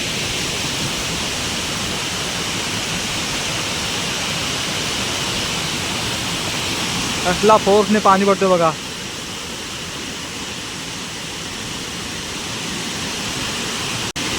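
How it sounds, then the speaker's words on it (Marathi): The Krishna waterfall in Konkan during the monsoon, a steady broadband roar of falling water from some distance. A brief burst of other sound and voices cuts in near the middle. "हा बघा मंडळी कृष्णा वॉटरफॉल"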